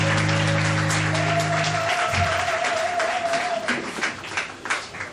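Applause from a church congregation acclaiming the Lord, a broad, steady wash of clapping that carries through with a sustained tone underneath.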